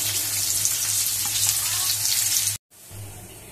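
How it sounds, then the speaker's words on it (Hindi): Chopped onion frying in hot oil toward browning, a dense close hiss of sizzling with a low steady hum underneath, cut by a brief drop to silence before the sizzle returns more softly. "तो हम कटी हुई प्याज इसमें ऐड करेंगे, ये कटी हुई प्याज है तो इसको ऐड करेंगे। इसको ब्राउन करेंगे।"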